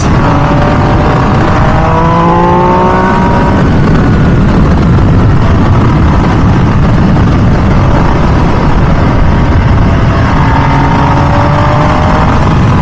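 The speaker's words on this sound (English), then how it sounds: "That exhaust sound is very, very addictive." A loud, throaty 2023 MV Agusta Dragster 800RR motorcycle exhaust runs continuously, its pitch climbing as the engine revs up near the start and again toward the end.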